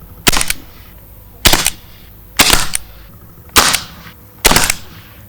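A full-power modded HDR 50 Tec9 CO2 pistol fires steel balls in five sharp, loud cracks spaced about a second apart, each with a short hiss of gas trailing after.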